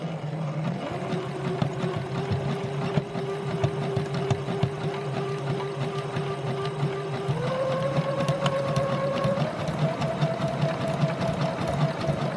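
Close, steady sewing machine hum as ribbon is stitched onto socks, running continuously with a slight rise in motor pitch partway through and no talking.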